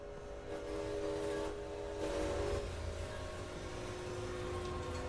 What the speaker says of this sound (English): Is that a train coming?